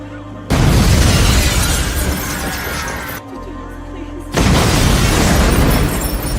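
Explosions at a shopping centre in a Sicario film scene, heavy booming blasts with shattering debris and rumble, loud and close, in two long bursts with a quieter stretch between.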